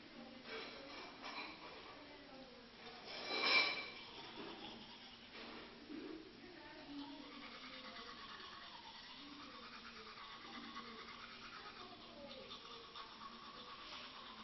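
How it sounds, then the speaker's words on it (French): Toothbrush scrubbing teeth, a faint continuous bristly scratching with one louder swell early on, close and quiet with no other sounds. "il faut brosser les dents"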